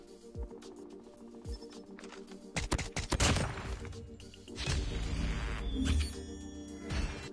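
SKS rifle shots in COD Mobile, a game, fired in two loud clusters of sharp cracks and impacts, preceded by a couple of softer thuds and followed by fading rumble.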